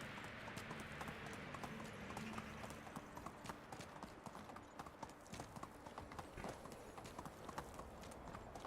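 Horse hooves clip-clop at a steady trotting pace while riding in the video game Medieval Dynasty, quiet and continuous over soft background ambience.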